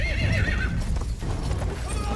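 Horse hooves gallop with a whinny in Battlefield 1's World War I setting, a busy game mix of rapid hoofbeats and a neigh carrying over dense battle noise, with some faint voice underneath.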